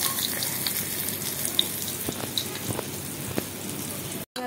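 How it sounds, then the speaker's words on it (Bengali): Potatoes and carrots fry in hot oil with a steady, soft sizzle and scattered crackles and pops, close by, with no voices over it. "দেখো এবার আলু আর গাজরটা ভেজে নেব"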